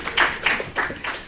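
A small group claps in four short uneven bursts, the slaps close and moderately loud with brief gaps between them.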